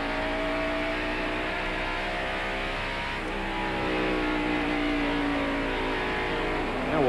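Race cars at Bristol during the 1993 Budweiser 500 roar past in a tight pack, a continuous loud engine drone with rising and falling revs and no talk.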